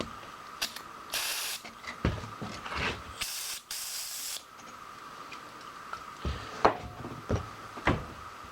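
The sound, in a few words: spraying cleaner on golf cart axle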